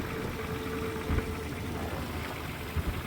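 A tired old car motor idles after a cold start on a snowy Minnesota day, a faint, steady low rumble with a couple of brief clanky knocks.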